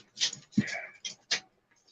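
A dog outside a window gives a few short, high whimpers and whines in quick succession, close and fairly clear over a quiet room.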